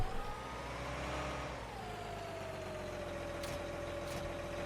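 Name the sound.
tracked tractor driving in Farming Simulator 19 (video game)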